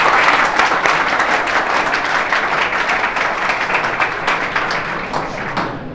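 Vigorous, sustained clapping fills the hall as a seminar audience in Narwana, Haryana applauds Abhimanyu Shastri, a loud, even roar of many hands throughout.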